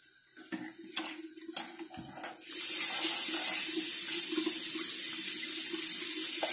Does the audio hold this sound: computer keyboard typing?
no